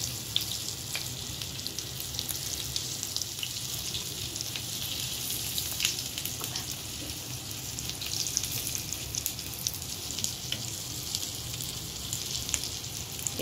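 Jackfruit seed kebabs sizzling in a frying pan, a soft, steady crackle of hot oil with tiny pops scattered throughout, no talking.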